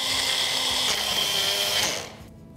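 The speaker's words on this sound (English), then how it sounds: "And then I'm going to grind this into a fine powder." Digestive biscuits being ground to powder in a mixie, a loud whirring motor with rattling contents for about two seconds before spinning down abruptly.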